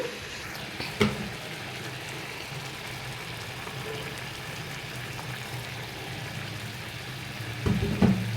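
Tomatoes for a hand-ground chutney cook in a pan with a little oil, giving a steady low sizzle and bubbling throughout, with a couple of brief clattering stirs of a utensil.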